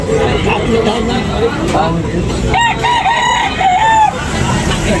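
Chickens and roosters at a busy chicken market in Tabunok, Talisay, clucking and crowing close by over a constant crowd babble and people talking.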